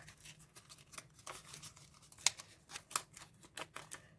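Soft rustling and crinkling of a paper packet, with a couple of sharp snips and tears cutting through quiet handling sounds.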